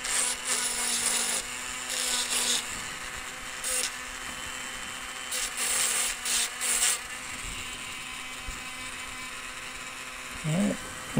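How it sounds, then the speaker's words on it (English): A small drill boring a hole in a metal spoon pendant gives a steady whirring grind that cuts in and out in short bursts, with a brief higher squeal near the end, heard alone at close range. "one more hole to drill."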